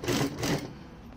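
A sewing machine stitches a strip of elastic made from sock scraps, giving a brief close whirring rattle of two quick pulses that fades within about a second.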